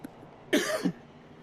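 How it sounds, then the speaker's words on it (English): A motorsport commentator gives a single short, throaty cough, close to the microphone against a quiet background. "I just needed to have a cough and splutter."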